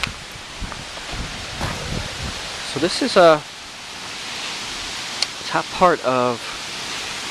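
At the top of Chapman Falls in Devil's Hopyard, flowing water makes a constant, moderately loud broadband rush, and someone speaks over it in two short bursts.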